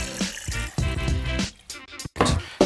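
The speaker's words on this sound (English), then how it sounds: "I'm gonna fill this up with water." Water poured from a tap into a container for a craft project, a close running and filling gurgle that rises in pitch, with brief pauses and splashes.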